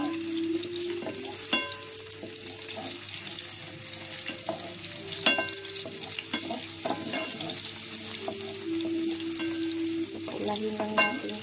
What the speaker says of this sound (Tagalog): Lulutuin lang natin ng konti yung bawang natin.